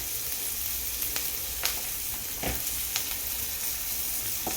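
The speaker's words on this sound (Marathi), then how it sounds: "त्यानंतर जे काही मी कढीपत्ता आणलेला आहे तो थोडासा कढीपत्ता, थोडीशी हिरवी मिरची, त्यानंतर लसूण पाकळ्या." Curry leaves, green chilies and garlic cloves fry in hot oil as a tempering, a steady close sizzle broken by several sharp crackles and spatters, with no voices.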